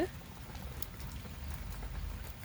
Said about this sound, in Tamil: பயங்கரமாக மழை வந்துடுச்சு